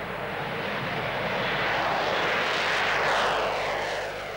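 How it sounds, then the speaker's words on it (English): The Avro Vulcan bomber XH558 takes off as its four Olympus jet engines roar at full throttle, a loud, broad, sustained rushing thunder that swells and slowly shifts in pitch as it passes. "4 Olympus engines throttled up, and at 160 miles an hour, the moment of truth"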